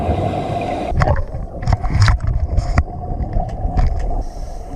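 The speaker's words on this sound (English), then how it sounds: "I wanted you to hear what it was like to be underwater" Scuba diving underwater, with muffled close bubbling and gurgling bursts from breathing gear in irregular pulses over a low, steady watery rumble.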